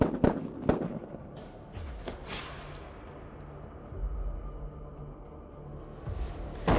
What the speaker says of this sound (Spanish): se escuchan tiros, se escuchan tiros